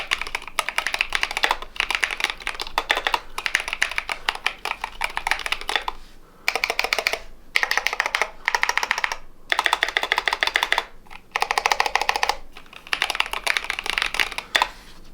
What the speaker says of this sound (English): happy with the outcome of this keyboard, and it definitely sounds way different than it did when we started